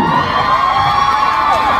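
Crowd cheering and shrieking at a concert, a loud, dense roar of many high voices sustained throughout, with excited squeals rising above the mass.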